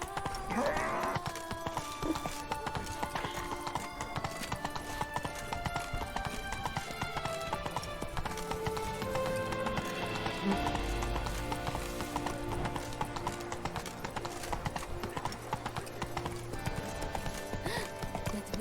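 Roach the horse gallops in The Witcher 3: Blood and Wine, a steady rapid clip-clop of hooves that runs throughout, close and prominent under game music and ambient sound, with a brief snort near the start.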